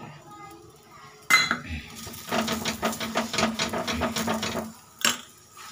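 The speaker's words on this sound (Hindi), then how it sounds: "इस तरीके से सेक ले रही हूँ" Metal utensils scrape and clink against a pan while roasting food, in a quick irregular rhythm, with a sharp clatter at the start and end, close and moderately loud.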